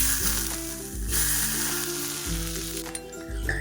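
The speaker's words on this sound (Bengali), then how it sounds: "আর দেবো ফুটন্ত সাদা তেল।" Boiling white oil poured over chili powder, white sesame, chopped garlic, soy sauce and ketchup, a loud continuous crackling sizzle with small bursts and pulses, close up and without speech.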